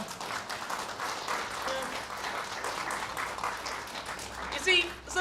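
An audience claps after a poetry reading at Rich Mix in London, a moderate, even patter of applause with some talking mixed in.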